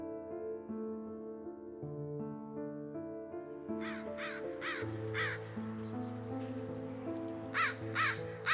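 Crows cawing in short rhythmic bursts of three or four harsh calls, fairly close, over a sustained musical accompaniment.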